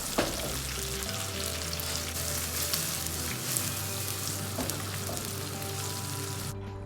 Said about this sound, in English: add the marinated paneer to the pan and shallow fry till light golden brown